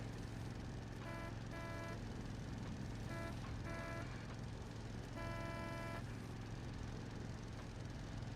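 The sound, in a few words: car horn honking in World of Warcraft video game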